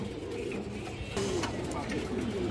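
Domestic pigeons coo at a pigeon seller's loft in Bangladesh, a low, soft rolling coo close by that grows fuller in the second half over a steady background murmur.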